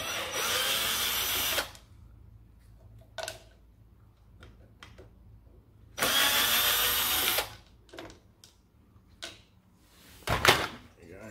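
Power screwdriver backing fasteners out of an old wood splitter in two long whirring bursts, close and fairly loud, with short clicks and clunks of handling in between and someone speaking briefly.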